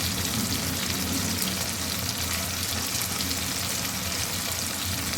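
Thick-cut chunky onions frying in oil for a pointed gourd (parmal) curry, a dense and even sizzle that holds steady throughout with no voices.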